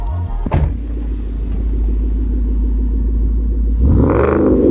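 A Roush-supercharged Ford Mustang GT with a 5.0-litre V8 engine, rated at 550 horsepower, idles with a deep, loud, steady rumble after a quick blip at startup, then revs up hard near the end, close by and without talk.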